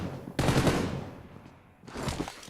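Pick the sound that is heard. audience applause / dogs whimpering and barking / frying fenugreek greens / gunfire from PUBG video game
gunfire from PUBG video game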